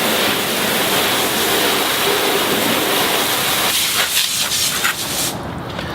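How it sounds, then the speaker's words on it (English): A Chemical Guys Fire Hose Ultimate nozzle, CNC machined, sends a loud continuous rushing water stream over a car during a rinse, a steady hiss that shifts slightly in tone as the spray hits different surfaces. "Now I have one of our brand new Fire Hose Ultimate nozzles."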